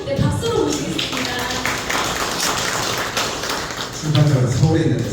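An audience at a Korean book concert applauds, a dense wash of clapping lasting a few seconds, bracketed by someone speaking at the start and end.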